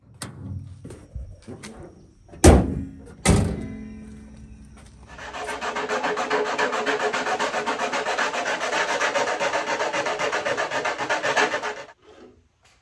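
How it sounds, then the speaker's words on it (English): Masking tape applied to the windows of a 1956 Ford R/C car body, a few sharp taps and handling noises, then a long steady rubbing or burnishing scrape of about seven seconds, close and alone. "we taped all the windows off, and then we drew the window lines and had to cut all those"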